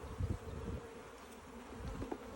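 Honey bees hum in a steady, faint buzz at an open beehive, a continuous insect drone with small swells and no voices over it.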